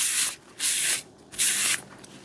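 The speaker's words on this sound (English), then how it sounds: "Let me do it, just do a quick test. This is a toilet paper." Toilet paper is rubbed and crinkled on a table at close range in three bright, papery bursts separated by short quiet gaps.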